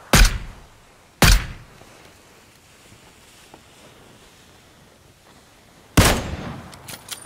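Gunfire in PUBG: three sharp, isolated shots ring out, two close together near the start and one several seconds later, each followed by a brief decaying echo over a quiet background.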